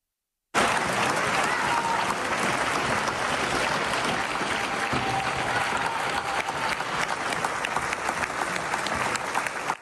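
An opera audience applauds at the premiere of La Traviata at Teatro La Fenice, a dense, continuous wash of clapping from a large crowd that starts abruptly and holds steady throughout.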